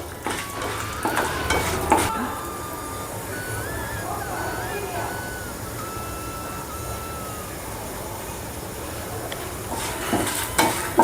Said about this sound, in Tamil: நல்லா வாசனை வர்ற அளவுக்கு நல்லா செவக்க வருத்துவோம் மிளகா வத்தல் சீக்கிரம் வறுபட்டுரும்